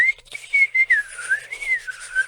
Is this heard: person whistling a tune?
yes